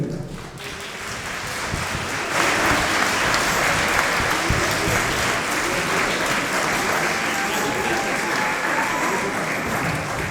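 An audience at a Sainte Cécile concert by La Renaissance in Saint-Laurent-de-Mure applauds the musicians, dense sustained clapping that rises after about two seconds and stays loud and even throughout.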